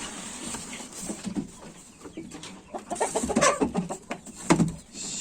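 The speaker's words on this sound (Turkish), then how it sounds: "Bu kutuda horozlar vardı galiba" Ornamental roosters confined in a box give off a string of muffled clucks and short calls, moderately close and rising in intensity toward the end.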